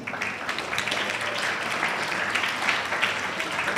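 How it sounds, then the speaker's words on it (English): Audience applause after a round of thanks at the close of a school program on cannabis awareness; dense, steady clapping from a crowd, moderately loud and continuous throughout. "A round of applause to all of them"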